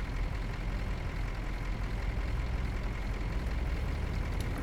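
A truck engine in Euro Truck Simulator 2, with a sound enhancement mod, drones in a steady low rumble, a constant even hum without speech.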